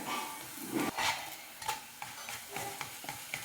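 Chapati cooking on a hot pan, a quiet sizzle with repeated light scraping and pressing strokes against the surface.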